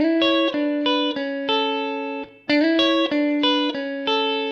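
Electric guitar playing a Motown-style sixth lick: crisp, evenly picked pairs of notes sliding between positions in a steady rhythm, clean and slightly effected, close and solo with a brief pause midway and no voices.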